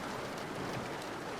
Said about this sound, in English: Stare outside the window, listen to the rain, the thunder, and think about it